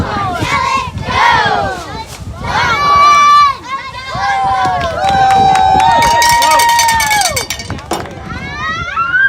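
A youth football playoff crowd yells a loud Longhorn cheer, with rising and falling group shouts and sustained bursts of voices over several seconds, near and energetic.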